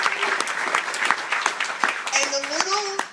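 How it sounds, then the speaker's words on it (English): An audience at a co-op lunch applauds in a brisk, steady patter of many hands clapping, with voices rising over it near the end. "So let's hear it for Tammy."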